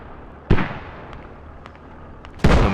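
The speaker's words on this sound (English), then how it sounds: "We have the mortars from OB." Mortar rounds fire in the video game Squad during a competitive match: two heavy booming blasts about two seconds apart, with a low ambient rumble and faint clicks between them.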